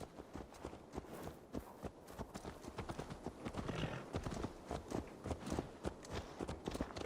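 Horse hooves clip-clop in Assassin's Creed Valhalla, a steady walking rhythm of close, distinct hoof strikes on firm ground, fairly quiet overall.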